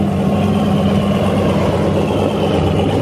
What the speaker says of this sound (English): Oh, Hellcat. Which means so are we. Let's listen to this thing. Single turbo.